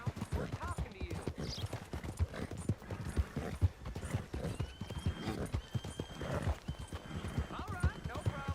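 Steady horse hooves clip-clop through a Red Dead Redemption 2 game scene, with an occasional whinny, while characters keep talking over the hoofbeats.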